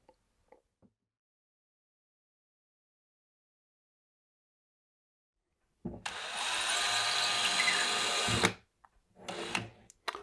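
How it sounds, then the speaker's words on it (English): Power drill boring a pilot hole into plasterboard for a skylight blind fitting: a single sustained whirring burst of about two and a half seconds after near silence, followed by a couple of short trailing scrapes. "Okay, so we've drilled a pilot hole."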